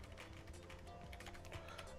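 Rapid keyboard typing on a computer, a steady run of small clicks and taps throughout, fairly faint, with no voices over it.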